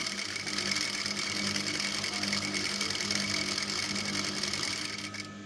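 A sewing machine stitches stretched elastic onto a baby skirt, its motor giving a steady, continuous mechanical whir at close range with no voices, easing slightly at the very end.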